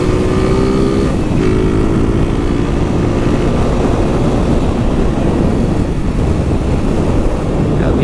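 A motorcycle engine revs and pulls through its gears, a rising whine cut by brief shifts, buried under heavy wind roar.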